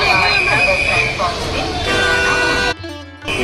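A train at Howrah Station in Kolkata as passengers board, with rumbling rail noise, a sustained horn-like tone and crowd babble, then a sudden drop into near silence before the din returns; people talk throughout.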